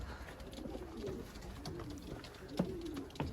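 Racing pigeons coo in a loft during an old-bird race, with low, rolling, throaty calls overlapping steadily, close and soft, and a couple of sharper flutters or knocks near the end; no talking.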